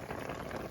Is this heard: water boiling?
yes